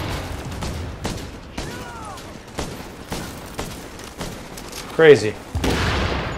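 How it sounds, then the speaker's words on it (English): Heavy gunfire from an APC-mounted gun in The Division on Xbox, booming blasts at irregular intervals that punctuate someone talking excitedly throughout. "Got an APC gun again or what?"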